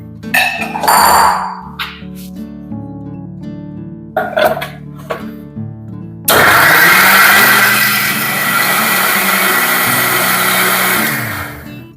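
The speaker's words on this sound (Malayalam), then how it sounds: "നമ്മുടെ സെക്കൻഡ് ട്രിപ്പും കൂടെ അരച്ചെടുക്കാൻ വേണ്ടിയിട്ട് മിക്സിയിലേക്ക് ഇട്ട് കൊടുത്തിട്ടുണ്ട്" A loud mixer grinder starts up and whirs steadily for several seconds, grinding arrowroot with water, preceded by clinking and handling noises.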